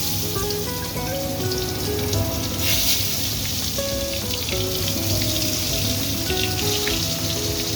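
Eggplant pieces rubbed with salt and turmeric are dropped into hot oil for frying. A dense, steady crackling sizzle carries on throughout, with a soft melodic tone running underneath.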